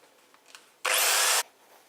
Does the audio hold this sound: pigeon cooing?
no